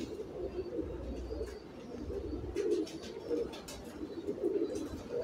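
Mian Sahib pigeons coo in soft, repeated low throaty bursts, close by and fairly quiet, with faint chirps and light background noise.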